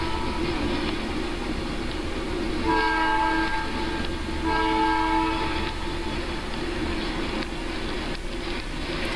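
A train pulling out of town rumbles steadily while its horn sounds in two long, harmonious blasts, fairly close over continuous rolling noise.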